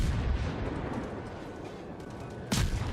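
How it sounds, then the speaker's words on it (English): The destroyer Mutsuki fires its guns in the naval video game World of Warships, a rumbling battle bed topped by one sharp, loud boom near the end. "So I'm just firing away with my guns."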